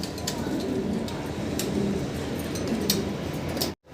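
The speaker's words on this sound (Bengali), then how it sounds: "এখানে আছে এক জোড়া কিং কবুতর" King pigeons cooing softly in low, repeated throaty calls over steady background noise, with a few light ticks, ending in a brief cut to silence.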